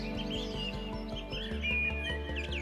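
Small birds chirp and tweet across the Serengeti grasslands of Tanzania, their bright, thin calls steady and moderately loud over a continuous low, pulsing background hum, with no voices.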